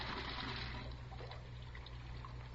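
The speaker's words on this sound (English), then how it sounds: "and I let the water run for a minute" Water runs steadily from a tap into a sink, a faint continuous trickle and splash over a low hum, staged as a radio drama sound effect.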